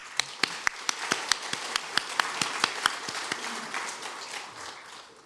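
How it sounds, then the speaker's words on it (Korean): A church congregation at a Sunday worship service claps in a quick, even rhythm, with loud sharp beats that thin out and fade after a few seconds into scattered claps and room noise. "하나님께 영광의 박수 올립니다"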